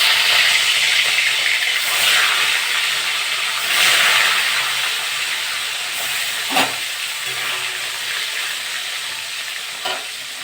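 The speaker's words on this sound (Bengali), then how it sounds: "তেলটা গরম হয়ে গেছে। আমি এবার মাছগুলো ভেজে নেব।" Pieces of katla or rohu fish fry in hot mustard oil in a karahi, giving a loud, continuous sizzling hiss with a few brief pops and stirring knocks, with no talk.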